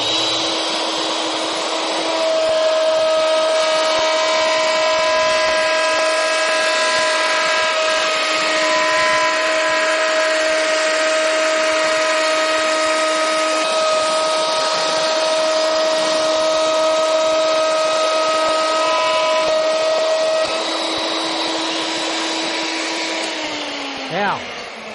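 A handheld wood router whines steadily while cutting a molding, its high tonal motor sound holding for about twenty seconds before winding down near the end, close and loud.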